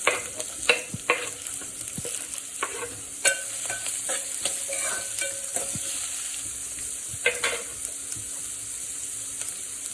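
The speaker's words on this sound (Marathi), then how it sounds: "कांदा चांगला गोल्डन होईपर्यंत परतून घेऊया" Three chopped onions sauté in a pan with a steady close sizzle, broken by frequent scraping and clicking stirs of a utensil against the pan.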